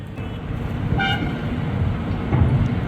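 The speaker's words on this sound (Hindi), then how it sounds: "बस हॉर्न उसका मेरे को सुनाई दे रहा है" A brief horn toot from the Mahabodhi Express sounds over heavy rumbling as it passes at a crossing, the steady roar of the train continuing loudly throughout.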